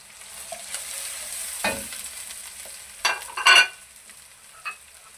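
Sliced tomatoes go into a hot pan for a chana lauki chicken curry and get stirred, a soft background sizzle broken by a few scraping spoon strokes and clattering knocks near the end.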